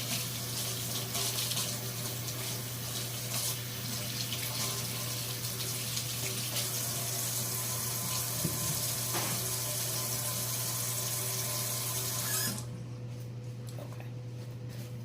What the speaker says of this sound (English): Wash your hands up real quick, guys.